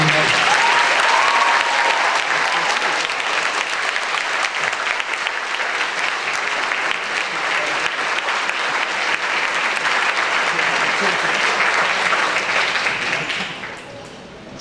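A graduation ceremony crowd applauds the graduates, loud sustained clapping that fills the room for about thirteen seconds, then fades quickly near the end.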